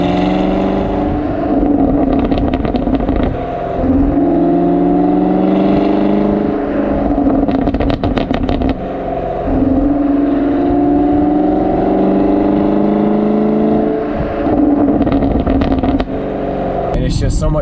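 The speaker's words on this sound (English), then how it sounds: "The pops and bangs when you let off the throttle just sounds so good" A 2019 Chevrolet Camaro 1LE revs hard with its engine rising and falling in repeated loud pulls, and bursts of crackling exhaust pops come on lift-off, all close and dominant.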